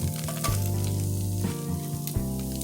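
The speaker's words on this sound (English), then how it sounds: "So now we're going to go ahead and add in our onion" Half an onion sizzling in olive oil in a soup pot for homemade vegetable beef soup, a loud continuous crackling fry with a low hum beneath and a couple of abrupt shifts as it settles.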